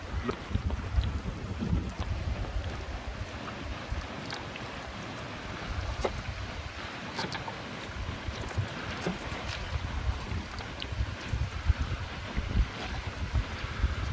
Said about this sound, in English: It's blowing a good 15 knots.